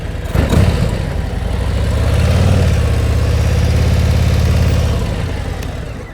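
A motorcycle engine runs steadily at low speed under a held, even throttle, a loud, continuous low rumble close by that swells slightly through the middle and eases off at the end, with no talking.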